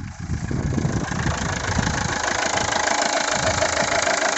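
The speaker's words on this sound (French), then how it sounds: "vient bien d'ici, donc l'alternateur qui est là." A car with about 206,000 km idling steadily with a faulty alternator, a continuous close engine drone with rough knocking texture and a faint whine, no talk.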